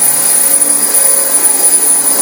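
A Dyson DC25 upright vacuum cleaner running over a filthy carpet, a loud, steady high-pitched whine and airflow roar held close and unbroken throughout.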